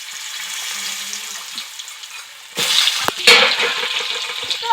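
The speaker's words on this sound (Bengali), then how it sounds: "এখন আমি আলুটাকে একটু ভেজে নেব।" Potatoes frying in oil in a pan, a steady close sizzle that grows louder and busier partway through, with brief stirring clatters.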